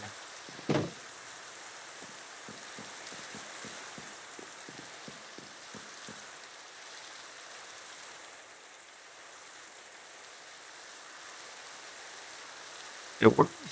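Rain in the game Minecraft falls as a soft, even hiss that runs the whole time, with a few faint clicks early on and a brief louder knock near the end.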